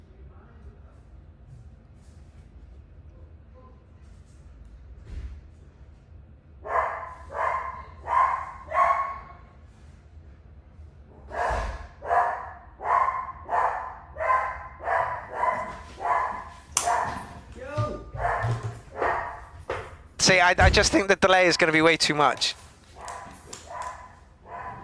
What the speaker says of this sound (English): You hear the dog? We can hear the dog.